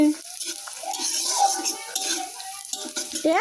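Onions frying in a pan on the verge of burning give a constant sizzle, with utensil clinks and faint tonal background sounds running through it.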